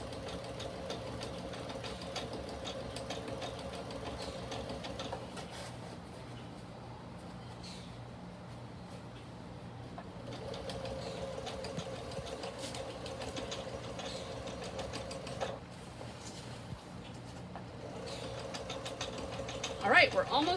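A sewing machine stitching fabric for outdoor swing seat cushions, a steady mechanical whir that runs in long stretches, pauses briefly, then resumes at a moderate, even pace.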